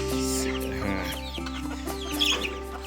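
Chickens on a poultry farm clucking steadily, several birds close by and overlapping in a busy flock.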